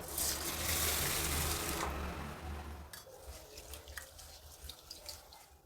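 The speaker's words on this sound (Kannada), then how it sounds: "ಈಗ ಇದಕ್ಕೆ ನೀರು ಹಾಕಿ ಎರಡು ಸಲ ತೊಳೆಯೋಣ" Water runs from a tap onto soaked lentils and rice for dosa batter, then dies down to softer sloshing and dripping as the grains are rinsed by hand. The whole passage is close and quiet, with no talking.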